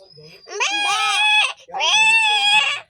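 A child imitates a goat's bleat with two loud, wavering nasal cries, each about a second long, close up in a quiet room.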